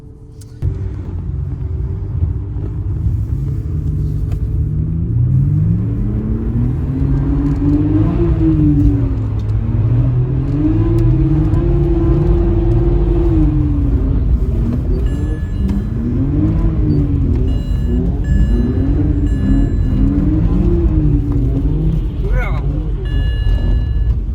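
A BMW 6 Series car drives on a snow and ice track, its engine droning and revving in rising and falling surges, loud and close from inside the cabin, with someone talking over it.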